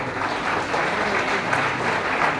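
Crowd applause at a political gathering, a sustained wash of many hands clapping together, fairly loud and even from start to finish.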